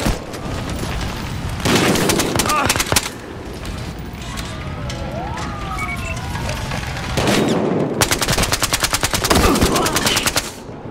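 Bursts of automatic gunfire in the video game Battlefield Hardline during a prison break, loud rattling volleys at the start and again near the end, with a quieter stretch between, close and intense.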